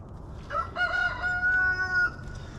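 A rooster crows once, a clear drawn-out call at moderate distance, with faint background noise and no talking.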